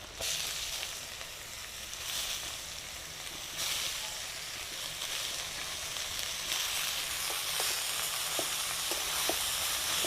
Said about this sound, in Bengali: পেঁপেটাকে ভালোভাবে একটু কষিয়ে নিতে হবে